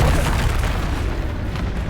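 A Confringo spell explosion in a Harry Potter-style video game, a loud, deep rumbling boom that fills the whole moment and slowly rolls on.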